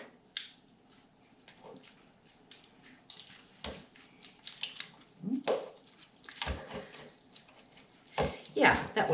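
Wet material for a succulent wall hanging is squeezed and wrung out by hand, giving close, irregular squishes, splashes and drips in short bursts, with occasional quiet sounds between them.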